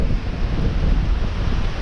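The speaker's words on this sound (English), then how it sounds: "God, it's windy" Strong wind buffets the microphone atop Sharp Tor in Dartmoor in a continuous low roar, loud and steady with no other sounds.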